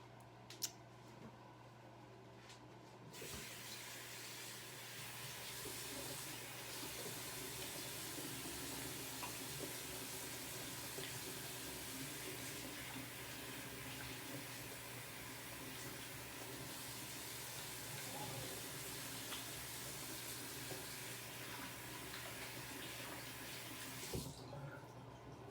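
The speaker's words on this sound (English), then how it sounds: "I'm just gonna go wash my hands" Tap water runs steadily into a sink while hands are washed, a close, continuous splashing hiss that starts after a few seconds and stops near the end, with no talking.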